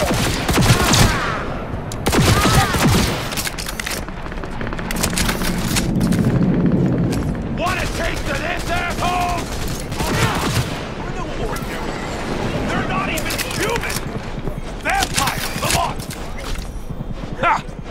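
Grenade explosions and gunfire in the Cyberpunk 2077 video game, with loud bursts of shots and heavy booms in irregular clusters and a rumbling blast in the middle, while voices talk between the bangs.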